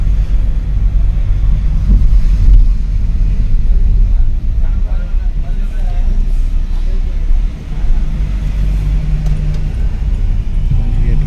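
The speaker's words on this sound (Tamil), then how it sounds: "இப்போ இந்த வண்டி ஓட்டிகிட்ருக்கோம்" Low, steady engine rumble and road noise inside a car driving along a main road, loud and continuous with slight swells, with a voice talking over it at points.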